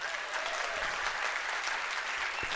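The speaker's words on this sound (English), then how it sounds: "Big round of applause for our lovely baton twirlers." Steady, dense applause from a crowd welcoming baton twirlers at a conference opening in San Francisco, filling the whole moment at an even, moderate level without a break.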